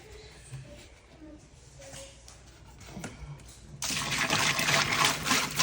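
Salt water gushes into a Fluval Flex 32.5 gallon aquarium tank, a sudden loud, close pouring rush that starts after several seconds of quieter trickles and handling noises.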